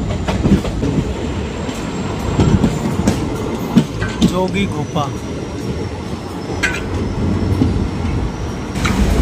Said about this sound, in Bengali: আমাদের ট্রেন যোগীর ঘোপার 2 নম্বর প্ল্যাটফর্মে ঢুকছে।